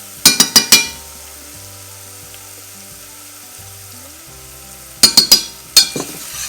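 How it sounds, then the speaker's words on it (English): A spoon stirs gluten-free flour into softened onions in a pan for a white sauce, producing two short bursts of quick scraping strokes at the start and near the end, with a faint low background hum between them. "And you're going to stir it."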